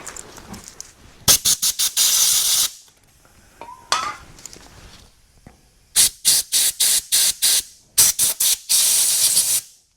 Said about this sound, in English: Let's try to blow out the carburetor here.